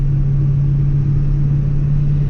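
A Ford Excursion with the 7.3 diesel accelerating hard as if passing, a loud, steady low engine drone and rumble heard from inside the cab.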